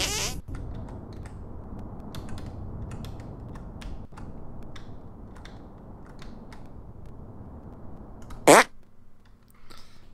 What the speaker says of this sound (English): Make your fart detonate behind me.